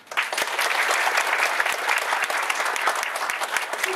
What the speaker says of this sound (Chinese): 请各位再次以掌声谢谢唐讲座。